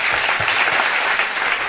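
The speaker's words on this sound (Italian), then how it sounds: "Io a loro vorrei dedicare questo applauso a voi." Steady, dense applause from a crowd, loud and continuous throughout with no voices standing out.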